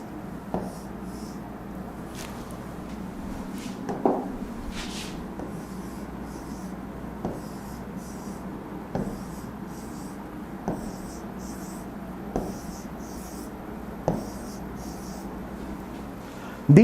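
Marker or pen drawing a benzene ring by hand on a board, giving a series of soft, brief scratching strokes spaced every second or two over a quiet room hum.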